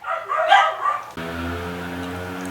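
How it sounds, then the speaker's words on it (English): Dogs bark and yip from behind a gate in a short, busy burst, then a steady engine drone from a passing four-wheeled bike takes over and holds to the end. "I think dogs are on the other side of the gate"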